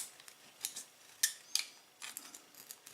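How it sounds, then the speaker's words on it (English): Scissors cut around a plastic bottle top, producing a steady run of close, crisp snips and clicks that are irregularly spaced and fairly quiet, with no voices. "all you need to do now is cut into the plastic"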